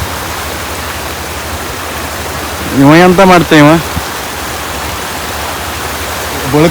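Heavy rain and rushing water in Udupi district make a dense, loud, steady roar, while someone speaks briefly over it in the middle.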